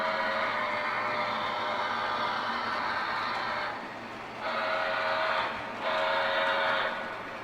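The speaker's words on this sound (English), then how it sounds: "And as always, there's a train coming." A model train runs along a layout with a bright, steady mechanical whir and hum close by, dipping briefly twice as it passes, with no voices.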